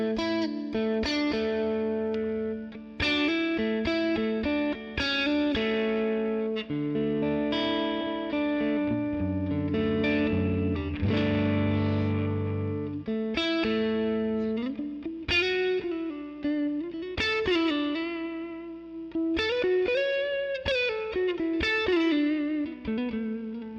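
Electric guitar played through a plate reverb on an Ampero Mini effects unit, strummed chords and melodic single notes ringing out with a lush, lingering tail, loud and alone without talk.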